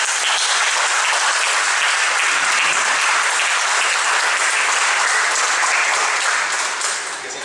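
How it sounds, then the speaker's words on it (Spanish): Loud, dense audience applause fills the room at a book discussion event, holding steady before tapering slightly at the end. "Un aplauso, por favor."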